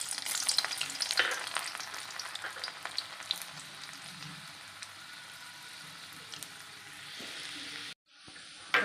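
Garlic dropped into hot oil in a home kitchen pan, the start of a methi and green tuvar bean dish: a loud, steady frying crackle that starts strong, eases slightly, then cuts out abruptly near the end, with no voices.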